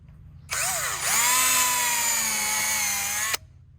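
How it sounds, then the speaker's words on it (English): A power drill whirs steadily at high speed for about three seconds, pre-drilling holes into wood for a ledger-attached pergola after a brief start-up. "So we're gonna pre-drill our holes."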